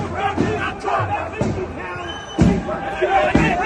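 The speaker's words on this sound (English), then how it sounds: "there was a lot of tension and some applause, but also definitely some abuse for this large contingent of NSN as they were headed in" A protest crowd shouts abuse and applauds at neo-Nazi marchers heading in, loud overlapping yells, claps and jeers arriving in bursts close by.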